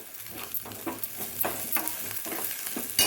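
A tempering of chana dal, onion and green chili fries in oil with a close, steady sizzle, broken by rhythmic stirring scrapes several times a second, with no talk.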